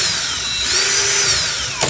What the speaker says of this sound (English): let me make sure when I spin my drill that everything spins properly